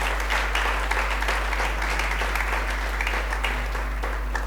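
A church congregation applauds during a Spanish-language sermon, an even, moderate wash of clapping over a low steady hum and faint sustained tones.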